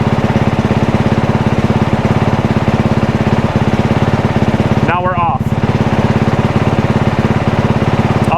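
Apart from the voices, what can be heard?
engine running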